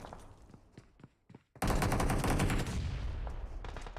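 Grenade blasts and gunfire in a mobile shooter esports final, a few sharp shots, then a heavy sustained burst of explosions and automatic fire that stays loud to the end.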